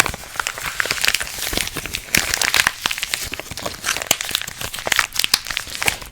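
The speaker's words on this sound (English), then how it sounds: "And you begin to unwrap it" Gift wrapping paper crinkles and crackles as a present is slowly unwrapped, with close, detailed rustling and crumpling in irregular bursts, loud throughout with no talking.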